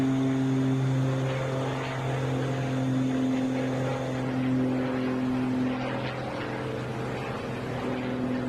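A Beechcraft Baron twin propeller plane arriving at Atlanta, a steady droning engine hum with strong low tones, fairly near and holding level throughout.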